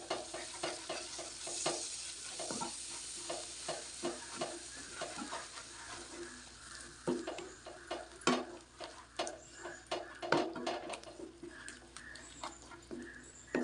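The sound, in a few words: stirring yogurt into okra curry in pan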